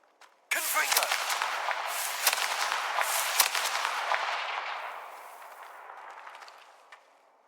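A Confringo fire spell blasts off in the Hogwarts Legacy video game with a sudden loud burst, then a crackling, roaring fiery rush that slowly fades over several seconds.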